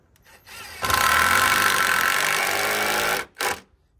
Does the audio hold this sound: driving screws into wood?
yes